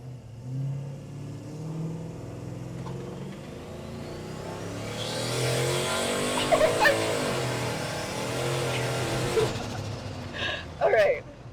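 A car revving and accelerating hard on a test drive, the engine note rising and falling between gears while people talk over it, a few sharp knocks near the end.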